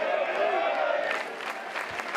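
A crowd applauds and murmurs at a college baseball game between East Carolina and Tennessee, a steady wash of clapping under a nearby voice.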